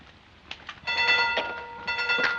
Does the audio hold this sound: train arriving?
yes